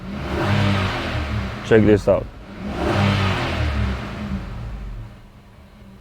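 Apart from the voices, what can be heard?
Infiniti QX80 engine being revved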